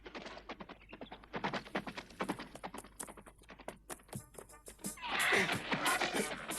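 A horse neighs and whinnies while bucking under a rider in a bronco ride, set over a rapid run of sharp, clattering hoof strikes that build into a louder, brighter burst near the end.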